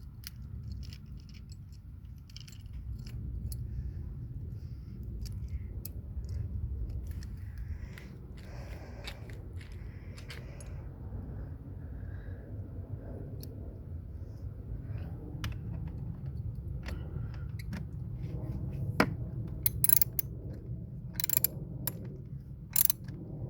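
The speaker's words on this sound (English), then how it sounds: "And now I just tighten all the connectors." Battery terminal connectors on a 2004 Mercedes-Benz E500 being tightened with a hand tool, giving faint ratcheting and metallic clicks over a steady low workshop hum, growing into sharper clicks near the end.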